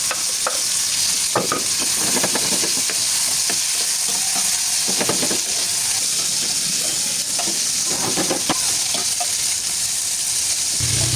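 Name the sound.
frying eggs in a pan with bitter melon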